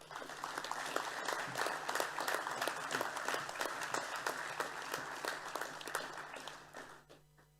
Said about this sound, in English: Could I have a round of applause for the boys on stage?